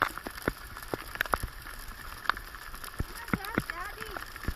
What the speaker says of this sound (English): It's very stormy. It's raining.